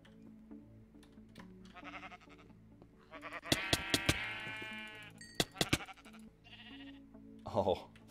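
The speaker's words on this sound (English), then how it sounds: "Oh, that sheep was so sour." Sheep bleat in Minecraft, several wavering calls rising over a quiet game background, with a voice talking and keyboard clicks scattered throughout.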